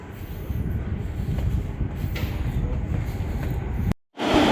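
A Rotterdam metro train pulls into a station with a continuous low rumbling roar and rolling wheel noise, steady and fairly loud before cutting off abruptly near the end.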